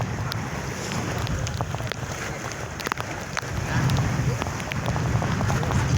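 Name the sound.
waves crashing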